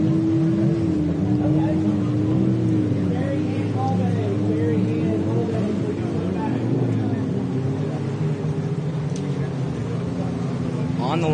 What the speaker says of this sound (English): We got some loud boats out there.